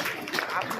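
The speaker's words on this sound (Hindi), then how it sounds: "ताली बजाओ इसके लिए।" Applause from an audience of students at a school career fair, a steady dense clapping that fills the short moment at moderate loudness, with voices mixed in.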